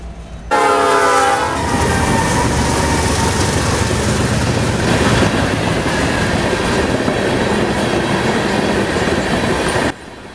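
A loaded freight train led by a pair of GEVO locomotives running long hood forward blasts past, its horn sounding at the start as the loud, steady roar of engines and rolling cars fills the scene.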